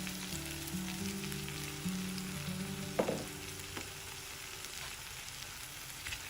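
Eggplant pieces frying in a pan after a ground spice powder is added, giving a steady soft sizzle with a brief clatter of stirring near the middle, then an even crackle fading slightly toward the end.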